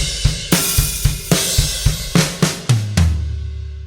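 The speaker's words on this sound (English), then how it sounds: "Measure 1 altogether should sound like this." A full drum kit plays a measure of a groove, with steady kick and snare hits under washing cymbals. It ends in a quick run down the toms to a ringing low tom, loud and close, with no voices.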